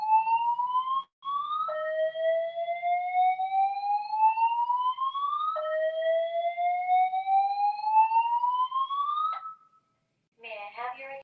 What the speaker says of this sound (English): An alarm has been activated in this building.